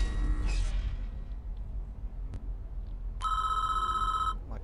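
An electronic telephone bell rings in the prison-management game Prison Architect, a single clear burst of bright, steady ringing over a low ambient game background.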